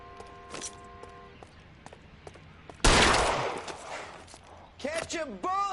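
Burst of gunfire in the video game L.A. Noire, a loud dense volley erupting midway and trailing off, with short game voice lines and music-like tones around it.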